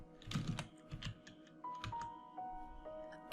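Keys on a computer keyboard are tapped in a few quick clusters of clicks, close and fairly quiet, followed by a thin steady electronic tone.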